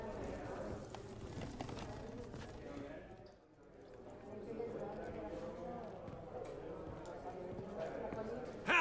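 Horse hooves clip-clop steadily under ongoing conversation in The Witcher 3, with a busy background of movement and chatter.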